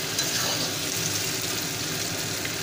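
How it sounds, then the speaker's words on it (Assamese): Goat meat fries uncovered in a pan over a high flame, giving a steady dense sizzle and crackle that holds at an even level throughout, with no talking. "এতিয়া 2 মিনিটমান সময় এনেকৈ মই ভাজি থাকিম।"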